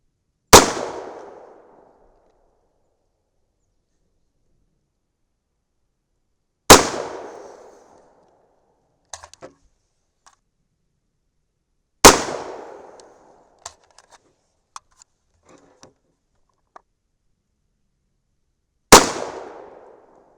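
Four loud, sharp shots from a 300 Blackout rifle firing Hornady 225gr BTHP Match subsonic loads, spaced several seconds apart, each with a short decaying tail, plus a few faint clicks and clanks between.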